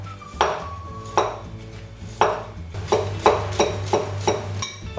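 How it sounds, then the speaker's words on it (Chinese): A kitchen knife shreds ginger on a cutting board, sounding as a string of crisp chopping knocks that start spaced out and then come faster and more regular. "切点姜丝"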